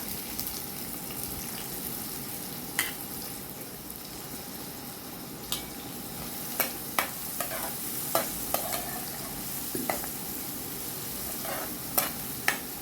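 Onion, cumin and asafoetida fry in oil for a potato and tinda curry: a steady soft sizzle hisses close by, punctuated by occasional sharp clicks and scrapes of a spoon stirring, with no talk.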